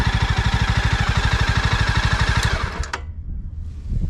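A Jawa motorcycle engine idles with a loud, steady rapid thump, then is switched off just before three seconds, the pulsing cutting out into a quiet rattle and faint low hum.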